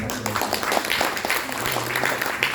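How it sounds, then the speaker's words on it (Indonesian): A crowd applauds with dense, steady clapping throughout, a low murmur of voices mixed underneath. "Tepuk tangan."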